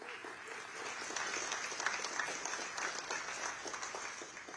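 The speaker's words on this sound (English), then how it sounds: "So a round of applause for all of the players." An audience at the 2023 US Chess Hall of Fame induction ceremony applauds the chess players, a dense, steady wash of many hands clapping that holds through the whole stretch at moderate distance.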